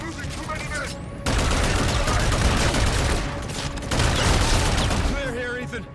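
Sustained gunfire in the video game Call of Duty Infinite Warfare, a loud dense barrage of rapid automatic shots with booming impacts that fills the whole stretch with only brief lulls, while voices speak briefly over it.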